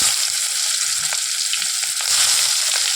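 Onions sizzling steadily in hot oil, a continuous close frying hiss with a few faint clicks from the pan.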